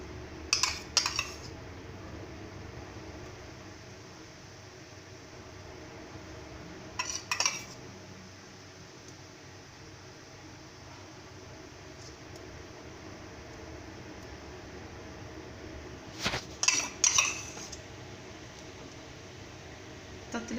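A spoon spreads tomato sauce over bread for a homemade stovetop bread pizza, giving three short bursts of soft scraping and clinking against a quiet, steady background.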